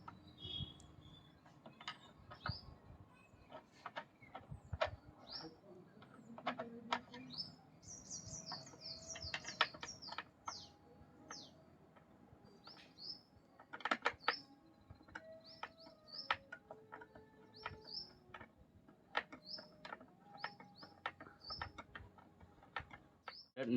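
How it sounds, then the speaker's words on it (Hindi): A socket tool unscrews nuts from the casing of a computer UPS, making rapid, quiet ratcheting clicks in irregular bursts over a faint background. "तो इसे खोलने के लिए यहाँ पर 4 सॉकेट दी है, जिसे हम लोग निकाल लेते हैं"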